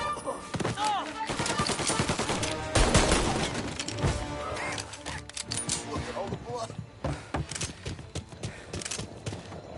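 Rapid bursts of gunfire and machine-gun fusillades in the Mafia Definitive Edition video game, loud and dense, with shouting voices and clattering crashes mixed in.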